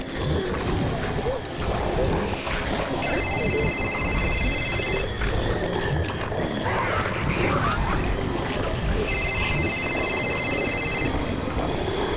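A telephone rings on an outgoing call, with repeated bursts of ringing tone in a steady rhythm, over a dense, noisy background from a Hindi horror serial.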